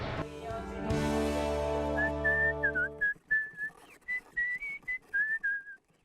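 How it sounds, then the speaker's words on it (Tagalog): A person whistles a short series of high, clear notes in a rhythmic pattern as a signal in the town of Bombon, Camarines Sur, after a loud swell of music fades out. "kapag narinig na ang sipol na ito"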